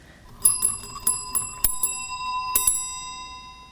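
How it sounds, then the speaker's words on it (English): A historic dinner room bell from the Abraham Lincoln museum collection rings in a series of bright metallic strikes, each with a long shimmering ring, the hits irregularly spaced and overlapping before fading out, with no talking. "one of them is the dinner room bell, which we happen to have audio of."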